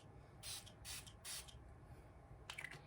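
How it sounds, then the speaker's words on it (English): A mattifying makeup setting spray misted onto a face in four short bursts, three evenly spaced hissing spritzes followed by a final one after a brief pause, close and soft. "I'm just gonna spray it on my face real quick."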